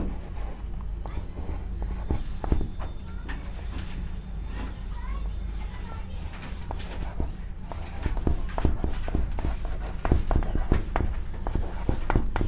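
A teacher writes on a classroom board in a maths lesson: repeated short taps and scratches come in uneven bursts, growing busier toward the end, over a low background hum.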